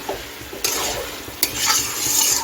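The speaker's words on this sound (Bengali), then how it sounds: "এখন সব কিছু ভালো করে মিশিয়ে নিচ্ছি" Shredded cabbage cooking in ghee is stirred hard in a pan, with loud metal scrapes and clanks over a continuous close sizzle.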